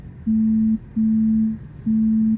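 Inside a car stopped at a traffic light, an incoming phone call sounds as three clear electronic tones of steady pitch, each lasting about half a second, with short gaps between them over a quiet cabin.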